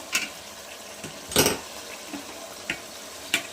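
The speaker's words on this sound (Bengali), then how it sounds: "মাংসটা কষাচ্ছি" Chicken pieces, including leg pieces, being sautéed in a pan, with a soft sizzle under sparse utensil clinks and scrapes, a louder stirring burst near the middle and a few quieter taps after.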